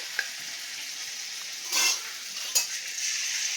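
Appam batter poured into hot oil, a steady high sizzle of frying dough with a couple of sharp bursts as more batter hits the pan and a faint clink of a utensil.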